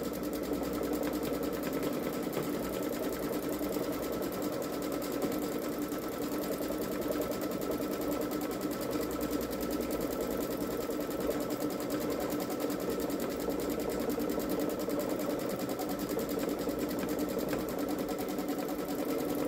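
A Baby Lock Solaris sewing machine runs steadily, stitching an edge-to-edge quilt pattern with a continuous even whirring hum and rapid needle ticking throughout, close and uninterrupted.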